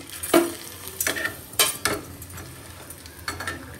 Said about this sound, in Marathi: तर मी पापड तळते आणि मग भेटते.